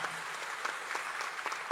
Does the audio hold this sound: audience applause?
yes